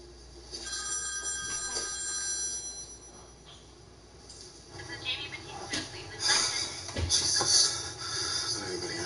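A landline telephone bell rings on and on with nobody picking up, its repeated trills sitting over a busy background of shuffling movement and scattered noise.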